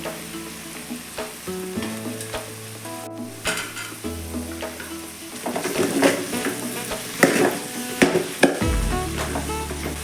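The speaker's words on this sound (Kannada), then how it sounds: "ಮಶ್ರೂಮ್ ಹಾಕಬೇಕು. ಇದನ್ನು ಸಹ ಫ್ರೈ ಮಾಡಬೇಕು." Mushrooms and tomato fry and sizzle in a pan while being stirred, a steady close crackle with occasional scraping and clinks of a utensil against the pan, no voices.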